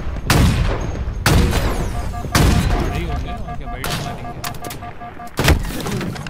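Halo Infinite custom game gunfire: five heavy, booming shots spaced roughly a second apart, loud and close, each ringing out briefly, with electronic game tones between them.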